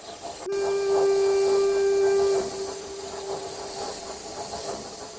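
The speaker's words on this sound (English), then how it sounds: "No, that's Andy's horn." A loud steady steam train whistle blows for about two seconds against hissing steam, then the hiss and rumble carry on after it stops.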